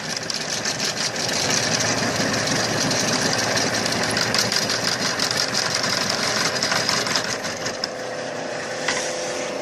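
A homemade lathe cutting thread with a half by 20 tap gives a steady, loud mechanical whir and rattle with fast chattering vibration, running continuously near the microphone with no talk.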